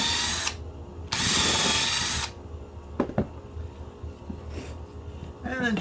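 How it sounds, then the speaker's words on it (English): A power drill whirs in short bursts drilling pilot holes into a scrap wood piece, one sustained run up close, with quieter mechanical clicks and a voice speaking in between. "This is my sacrificial piece that I'm drilling into."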